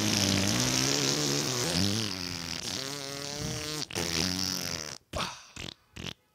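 A person imitates fart sounds with the voice, producing a long, loud buzzing blurt that wavers in pitch, then ends in a few short sputtering bursts. Brief talk comes in near the end.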